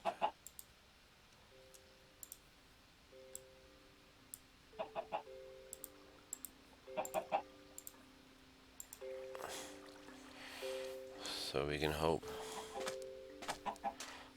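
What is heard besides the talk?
chickens clucking in a video game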